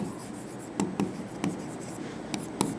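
Marker or chalk strokes on a classroom board while writing a chemical name during a lesson on acids and bases: several short, distinct scratchy taps and squeaks in a quiet room, no voices.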